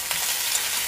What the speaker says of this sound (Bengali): এটা ভাজা হোক ফুলকপিটা একটু